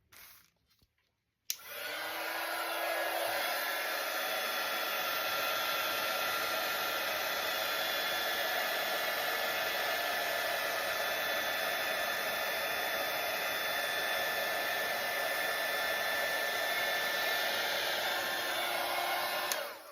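A heat gun blows hot air onto plastic packaging to melt it. The steady, loud airflow starts after a short silence and keeps going without a break.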